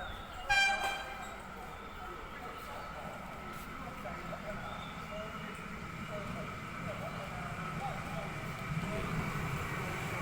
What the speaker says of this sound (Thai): ตอนนี้ขบวนรถด่วนพิเศษขบวนที่ 43 จากสถานีกลางกรุงเทพอภิวัตรปลายทางสุราษฎร์ธานีกำลังจะเข้าจอดสถานีราชบุรีแล้วนะครับ